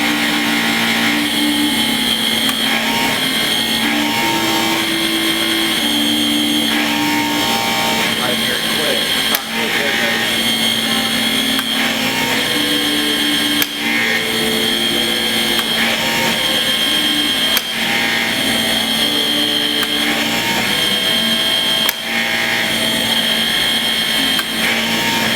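A pneumatic torque wrench tightens a bolt on a tension calibrator, a loud continuous whirring drone lasting the whole stretch with brief periodic dips as the tool cycles.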